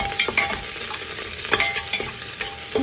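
Chopped onions frying in hot oil for eggplant sambar, a steady close sizzle punctuated by a few scraping strokes of a spatula across the pan.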